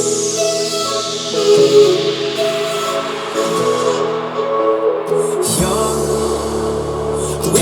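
Verse section of a remix of a song, layered synth chords shifting in steps under a sweeping bright texture, full and loud, with no talking.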